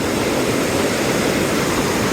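Steady broadband rush of a river flowing beneath a footbridge on a mountain trek in Kyrgyzstan, a loud continuous wash of water with no pauses and no voices.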